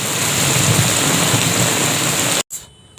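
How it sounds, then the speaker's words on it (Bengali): Heavy rain pours down in a dense, loud, continuous roar and hiss close by, then cuts off abruptly near the end, leaving a brief quieter patch. "বৃষ্টি খুব বেশি বৃষ্টি"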